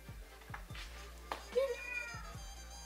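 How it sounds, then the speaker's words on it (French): A cat meows a couple of times, a thin rising cry at close range, over a faint repeating background thump. "Kiki est bizarre aujourd'hui. Elle miaule tout le temps."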